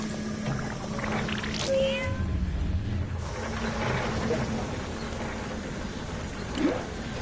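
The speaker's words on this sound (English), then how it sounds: "I'm gonna put my cat on him." In the game Fallout Shelter, a cat gives a brief meow or two early on amid a murky, rumbling game soundscape, moderately loud with no speech over it.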